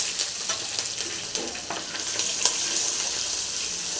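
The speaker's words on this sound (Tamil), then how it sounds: "எண்ணெய் காய்ச்சி கடுகளை போட்டுடலாம். நல்லா பொரிஞ்சிடலாம்." Mustard seeds spluttering in hot oil in a home kitchen pan while making mutton boti gravy, a steady close sizzle dotted with small sharp pops and crackles throughout, with no talk.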